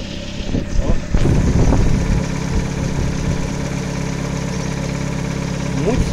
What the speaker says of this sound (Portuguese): Olha essa marcha lenta, galera.